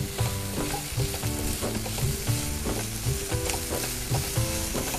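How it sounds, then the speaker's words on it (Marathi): Onion with finely chopped curry leaves sautés in a pan, a steady sizzle broken by rhythmic, repeated stirring strokes, fairly close. "म्हणजे थोडा साधारण कांदा शिजेल इतपत आपण ते परतून घेतोय"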